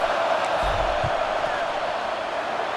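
A football stadium crowd roars steadily during a field goal attempt, a dense, constant wash of noise with no single voice standing out.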